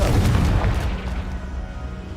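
A Confringo blasting spell in Hogwarts Legacy lands as a loud, close boom, a deep burst that fades into a rumbling tail over about two seconds.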